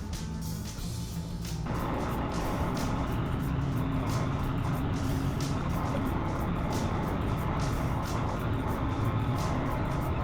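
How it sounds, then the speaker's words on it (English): A truck backs a dump trailer into position and tips its load of muck and dirt during ditching and clearing work. A loud, steady diesel engine rumble runs throughout, with a rise in intensity and broadband noise after the first couple of seconds. "just waiting for him to get that backed up over and get it dumped out"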